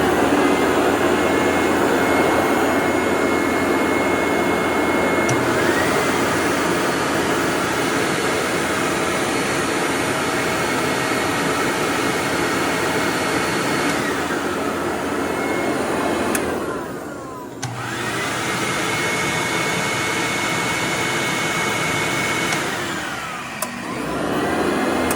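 A Hoover WindTunnel upright vacuum cleaner with a higher-amp motor runs loudly and continuously, a steady droning whine that dips briefly twice as the motor is shifted or the load changes.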